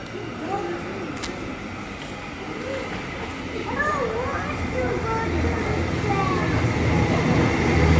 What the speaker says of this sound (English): We've got a train arriving.